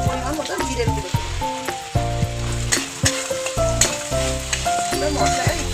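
Tomato, salt, turmeric and cumin powder fry in hot oil with a soft sizzle and occasional stirring scrapes. Loud, rhythmic background music with a steady beat partly covers the sizzle.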